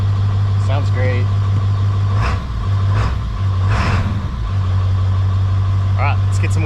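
A totaled truck's diesel engine, likened to a 7.3, idles with a steady low rumble close by, while someone talks over it at intervals.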